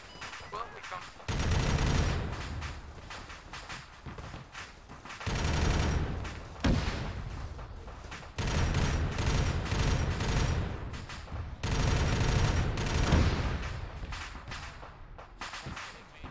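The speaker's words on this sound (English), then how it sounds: "Something keeps on shooting me and only me." Bursts of automatic gunfire from a Warhammer video game, several sustained volleys of rapid shots separated by brief pauses, loud and close.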